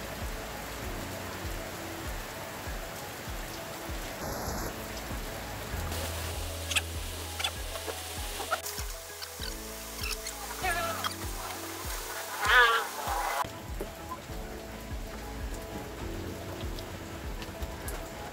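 Steady rain patters outside a roadside pares eatery, a soft, continuous hiss close by that runs the whole time beneath scattered clinks and faint background activity.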